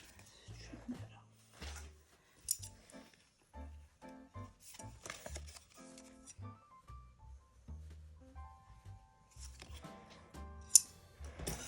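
Scissors trimming craft material for a Christmas advent project, a few quiet snips and small cuts close by, scattered between soft handling noises and a voice talking.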